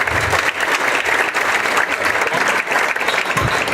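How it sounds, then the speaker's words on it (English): A crowd applauds youth football coaches at a Hall of Fame ceremony, with dense, loud, sustained clapping that fills the room. "let's give them a round of applause"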